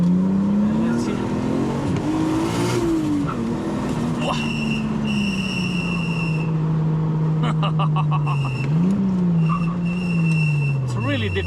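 A tuned Nissan Skyline GTT engine pulls hard in first gear on a mountain road, its loud, steady drone rising and falling in pitch as it revs, with a brief tire squeal and some background chatter.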